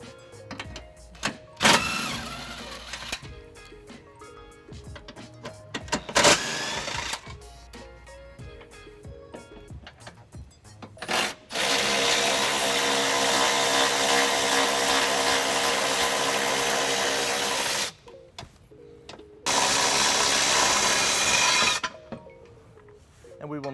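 An impact tool on an 18mm socket removes the tow hook bolts from the driver's side frame rail of a 2015 Infiniti QX60, with short bursts early on, then two long sustained buzzing runs, near and loud.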